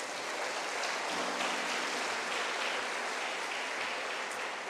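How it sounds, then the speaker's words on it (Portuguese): A church congregation applauds together in steady, dense clapping that holds at an even level throughout, a broad wash of hands without pauses. "Vamos aplaudir o Senhor Jesus."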